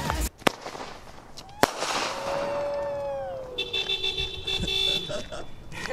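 Canada Day fireworks on July 1st: a couple of sharp, loud bangs, followed by a rising whistle and crackling, with a car horn tooting and voices in the background.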